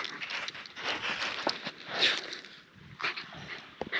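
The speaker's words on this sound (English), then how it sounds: "Sand makes a squeaking noise when he digs in it." Sand squeaks and scratches in short, irregular bursts as a dog digs close by on a Lake Michigan shore in Michigan's Upper Peninsula, fairly faint.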